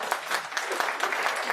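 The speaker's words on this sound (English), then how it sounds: "I'm glad to see chartered accountants are clapping." Chartered accountants in an audience at a talk on black money and economic reform clap in a brief, steady burst of dense, overlapping hand claps.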